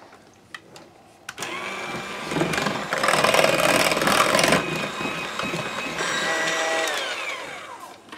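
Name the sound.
electric mixer blending wax melt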